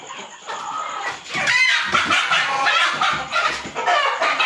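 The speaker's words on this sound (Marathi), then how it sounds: "पकडायला गेल्यावर अशी बोंबडली पाहिजे कोंबडी गावठी" A village country chicken squawks and clucks loudly and frantically as it is caught, in close, continuous agitated bursts.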